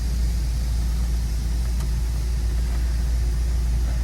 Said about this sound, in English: AC is blowing.